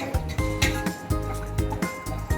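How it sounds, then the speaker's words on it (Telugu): Milk is poured into a pan to make semiya payasam, carrot and beetroot juice going into the dish too. The pour is close, with repeated soft splashing pulses and bubbly liquid noise throughout. "ఇప్పుడు పాలు పోసేసుకుందాం"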